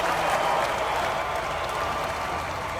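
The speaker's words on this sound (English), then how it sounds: "Give him a round of applause, Birmingham, as Rob Johnson finishes up the run" A crowd applauds a finished drift run at a British Drift Championship Pro-Am qualifying round in Birmingham, producing dense, steady clapping that fades slightly over a few seconds, with no voices on top.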